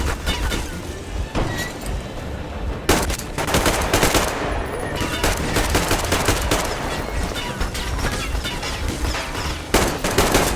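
Machine-gun bursts and gunfire in the video game Metro Exodus, loud and continuous, with rapid shots and heavy impacts, near and dense across the whole stretch and no clear speech.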